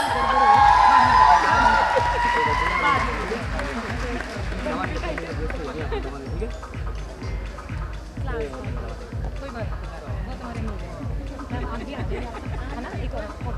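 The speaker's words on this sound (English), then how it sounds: "A huge round of applause." A college freshers' party audience applauds and cheers as Mr. Fresher 2024 is honoured, a dense sustained wash of clapping with loud shouting and chatter that swells at the start, then settles into steady clapping.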